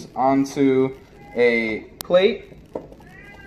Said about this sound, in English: That's my cat, you heard it.